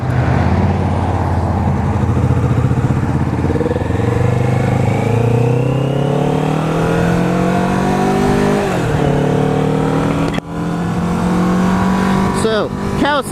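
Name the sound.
2015 Kawasaki Vulcan S motorcycle riding off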